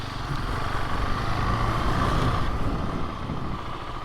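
A KTM 701 Enduro motorcycle in its snappiest power mode pulls away with a steady, loud engine drone that holds close and even throughout, with no talk over it.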